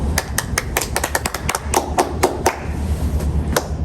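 A run of sharp hand claps, at first quick and irregular, then thinning to a few scattered claps, over a low steady rumble.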